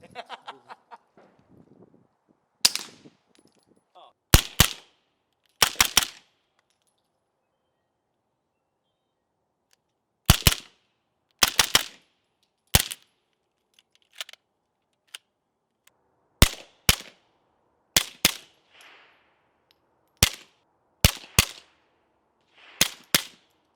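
Suppressed gunshots through a CGS Mod 9 suppressor, fired on a couple of different guns: a string of sharp, muted cracks heard alone, some in quick doubles and triplets, separated by pauses.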